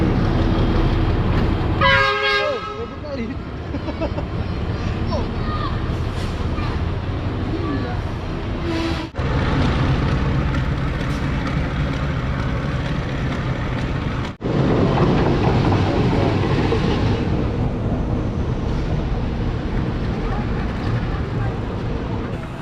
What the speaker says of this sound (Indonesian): Kereta api.